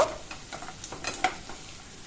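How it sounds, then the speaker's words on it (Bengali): Cut potatoes stirred into hot mustard oil in a pan, giving a soft sizzle with a few scraping stir clicks from a utensil over about two seconds, close and fairly quiet. "এবার তেলটা গরম হয়ে যেতে আগে থেকে কেটে ধুয়ে রাখা আলুটা দিয়ে দিলাম। আলুটা সামান্য একটু নাড়িয়ে নেব।"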